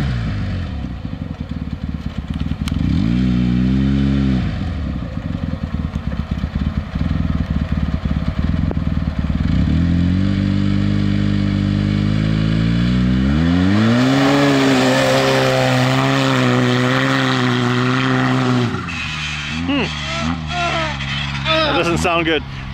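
300hp Wildcat 4X side-by-side engine revving repeatedly, loud rising and falling drones with a long sustained high rev, with people talking throughout.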